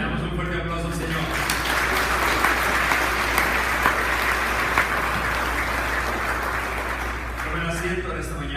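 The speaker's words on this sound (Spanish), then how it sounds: "le damos un fuerte aplauso al Señor" Sustained applause from a church congregation at a Christian service, loud, dense and steady throughout, with voices mixed into the clapping.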